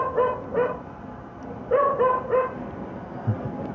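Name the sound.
dog barking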